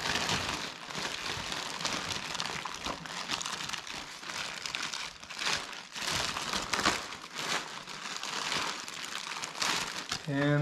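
Plastic wrapping crinkles and crackles around a new tubular upper control arm for a 1955 Chevy, a steady close rustle with bursts of louder crumpling over about ten seconds in a garage.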